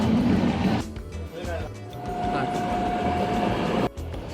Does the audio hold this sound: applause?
no